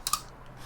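Two quick keystrokes on a computer keyboard, a fraction of a second apart, as a screen resolution is typed into a design tool. Both clicks are crisp and close, followed by quiet.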